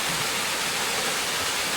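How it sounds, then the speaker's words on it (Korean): A small waterfall and stream pour steadily and clearly, a continuous close rush of flowing water with no voices over it. "물소리가 참 맑아요."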